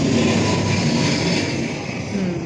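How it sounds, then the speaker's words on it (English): A fixed-wing airplane passes overhead, a steady broad engine roar that stays loud and constant throughout with no talk over it. "sorry about the plane"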